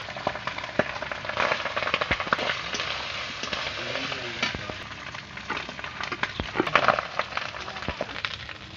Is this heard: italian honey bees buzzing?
no